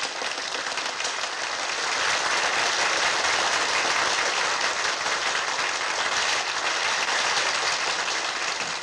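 A studio audience at the 1957 German TV talent show Die grosse Chance gives a young singer a sustained, even round of applause, loud and steady for the whole stretch.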